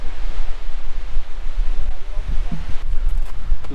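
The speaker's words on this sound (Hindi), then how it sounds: "बाकी झरना बिल्कुल हमारे सामने है" Vasudhara waterfall in the Himalayas near Mana village roars as a constant broadband rush of falling water, loud and steady, with wind buffeting the microphone and faint voices underneath.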